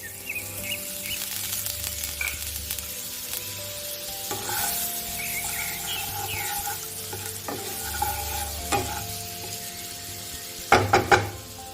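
Butter melting in hot oil in a pan after paneer has been fried, giving a steady sizzle throughout with occasional light stirring and a few sharp clinks of a utensil near the end.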